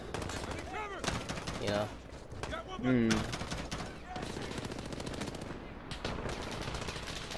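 Suppressed gunfire in Call of Duty Modern Warfare: rapid muffled bursts of automatic shots crackle in fast strings, fairly close, with someone talking over them.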